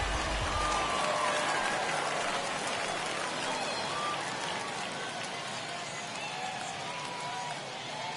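A stadium crowd in MLB The Show 21 roars and cheers after an RBI base hit, a loud, dense wash of applause and voices that starts strongest and eases slightly over the seconds, with faint whistles through it.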